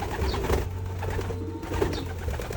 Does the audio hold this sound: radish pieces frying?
no